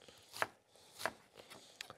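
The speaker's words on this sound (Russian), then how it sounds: "мелко-мелко порежу лук" A knife finely chopping onion on a board: a handful of sharp, distinct cuts at an uneven pace, close and fairly quiet, with no talk.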